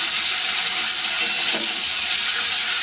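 Vegetables, green chilli, onion and tomato fry in hot oil, producing a loud, even close-up hiss and sizzle with no talk.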